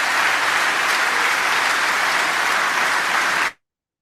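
An audience claps in steady, dense applause at a spoken-word show. It is loud and even throughout, then stops abruptly.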